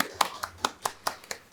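Sparse, distinct hand claps, about seven of them in a loose rhythm and fairly quiet, greeting a dance mentor at an online mentoring session.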